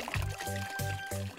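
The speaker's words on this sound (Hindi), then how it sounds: "रुको, चलो टब में पानी भर देता हूँ।" Cartoon-style water effect of a bathtub being filled: three rhythmic gurgling pours in quick succession, close and bright, with no speech.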